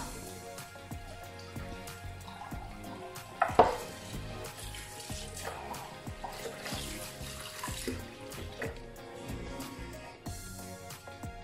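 Water poured into a pot while cooking suman, sticky glutinous rice cakes, a close splashing run with a sharp knock partway through and soft kitchen clatter.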